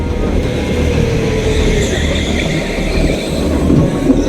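A racing go-kart engine drones loud and continuous at close range, a steady rumbling whine with rattling as the kart runs on the track.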